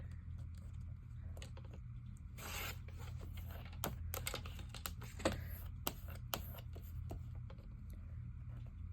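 Paper pages cut with a paper trimmer at a craft table, heard as a quiet run of crisp slicing and scraping strokes with sharp clicks and taps scattered through, with no talking.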